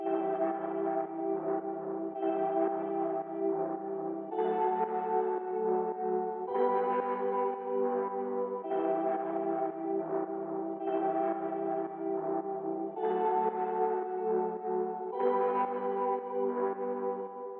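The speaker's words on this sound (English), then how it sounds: "Then for the next thing, I had the synth preset from Analog Lab." Sustained synth chords from an Analog Lab preset in a beat, a bright bell-like pad changing chords every couple of seconds, steady and full with no talking.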